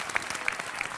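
Applause from an audience at a comedy magic show fills the moment as a brief, steady patter of many hands clapping together.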